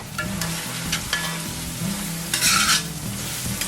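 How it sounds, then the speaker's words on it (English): Spring onions, garlic, ginger and bonnet peppers fry in coconut oil with a steady close sizzle, while a utensil stirs and scrapes in repeated short strokes, one louder burst of crackle partway through. "To that, I will add spring onions, garlic, ginger and bonnet peppers. We're going to fry until it caramelizes"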